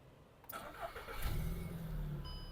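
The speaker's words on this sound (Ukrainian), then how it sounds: "Автомобіль завівся з півтику, працює тихо, рівно, не димить, не троїть." A 2006 Volkswagen Touran with a 1.6 MPI petrol/LPG engine cranks briefly and fires up. It then settles into a steady, quiet, even idle, heard close and alone with no talk.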